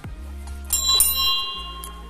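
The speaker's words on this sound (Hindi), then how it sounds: "तो हम यहाँ पर एक बार घंटी जरूर बजा लेते हैं।" A small metal bell at a roadside village shrine rung a couple of times at night, bright ringing tones that linger briefly over a low steady hum, close by.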